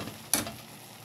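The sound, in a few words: Easter scramble sizzling and being stirred in pan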